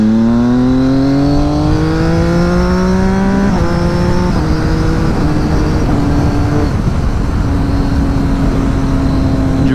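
A Triumph Daytona 675 three-cylinder motorcycle engine revs hard and loud up through the gears, pitch climbing, dropping at each shift, then settling into a steady high drone.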